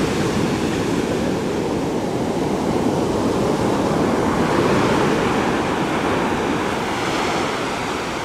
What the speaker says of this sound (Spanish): Están muy grandes las olas.